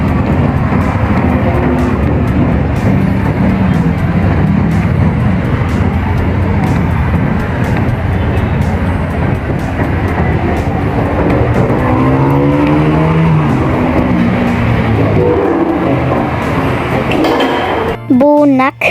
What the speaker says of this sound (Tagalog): Ang napakadami talagang sasakyan.